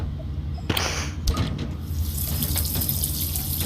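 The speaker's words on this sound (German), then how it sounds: "gehen wir aber erstmal zum Waschbecken und gießen uns ein" Water pouring into a sink in the video game D4: Dark Dreams Don't Die, a steady close splashing stream that runs through the whole stretch with a couple of brief knocks near the start.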